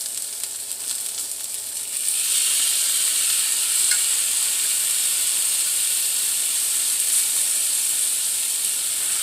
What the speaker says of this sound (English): I'll be back when this stops sizzling.